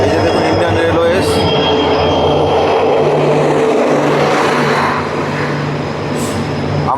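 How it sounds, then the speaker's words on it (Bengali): The Vivek Express rolls into platform 2 at Dimapur station with a loud, close, continuous rumble of wheels and carriages, metallic squeals rising above, and faint voices in the station background. "বিবেক এক্সপ্রেস ডিমাপুর স্টেশনের 2 নম্বর প্ল্যাটফর্মে ঢুকে গেছে।"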